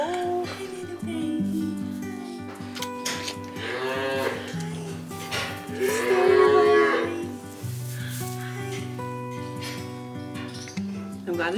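Cattle on a dairy farm in the Netherlands mooing repeatedly, several long, loud, close lows, with the strongest near the middle, over a steady murmur of people talking and farm noise.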